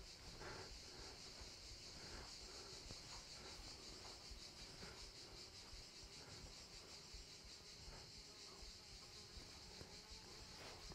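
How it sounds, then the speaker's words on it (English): A wasp's steady buzz drones on continuously indoors, fairly close and constant in level, with no speech over it. "We've got a wasp following us, excuse the noise."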